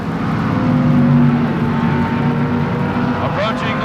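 Super Stock drag race cars run side by side down the strip in the 1978 NHRA Gatornationals final, a steady loud engine roar with a commentator's voice over it throughout.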